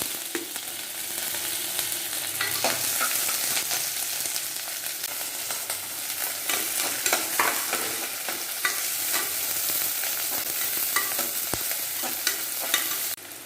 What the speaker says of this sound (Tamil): இப்போது அடுப்பில் எண்ணெய் வச்சு இந்த வெங்காயத்தை சேர்த்துக்கலாம்.